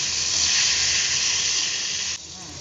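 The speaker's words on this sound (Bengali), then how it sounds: "তেল গরম হলে এর মধ্যে দিয়ে দিয়েছিল 2টো কাঁচা লঙ্কা, 1 চামচ তিল, একটু হলুদ দিয়ে এই সেদ্ধ করা পটলগুলো একটুখানি ভালো করে ভেজে নিতে হবে" Boiled pointed gourd frying in hot oil with green chillies, sesame seeds and turmeric gives a steady, close sizzling hiss that cuts off sharply near the end.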